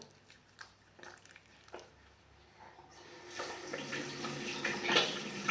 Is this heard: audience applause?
no